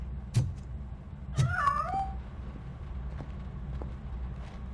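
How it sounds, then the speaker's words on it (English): A cat meows in the video game RoboCop Rogue City: one clear, rising-and-falling meow close by, after a couple of sharp knocks, over a low steady ambient rumble. "That cat must be hiding inside."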